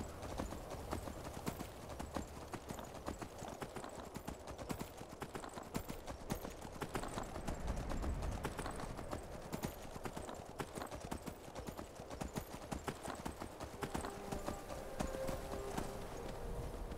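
Daedric horse in Skyrim, its hooves clip-clopping in a steady, continuous rhythm as it travels, loud and close throughout with faint ambient sound beneath.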